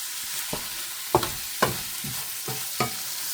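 Chicken frying on high heat in a pan for a homemade chicken fry, a soft steady sizzle broken by several distinct spatula scrapes and stirs, close and fairly quiet.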